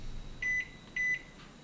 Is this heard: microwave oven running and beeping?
yes